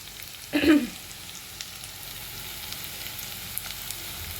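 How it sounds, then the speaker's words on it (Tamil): Onions sautéing in oil make a steady, moderate sizzle, broken early by one brief louder scrape or stir burst, then a constant faint hiss with no one talking. "இது வெங்காயம் வதங்கட்டும்"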